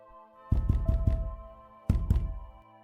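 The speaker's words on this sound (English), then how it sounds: "He banged on the door" A series of heavy, dull thuds in two bursts, four quick blows followed by two more, like a fist pounding on a door.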